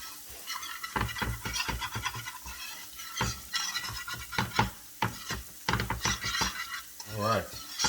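Sausage browning in a pan for biscuits and gravy, stirred with a utensil that scrapes and clinks against the metal in an irregular run of close, fairly loud knocks and scrapes over a low sizzle.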